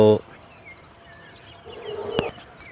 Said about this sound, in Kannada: ಈ ವಿಡಿಯೋದಲ್ಲಿ ನೀವು ಕೇಳಿಸ್ಕೋಬೋದು ಪಕ್ಷಿಗಳ ಕಲರವ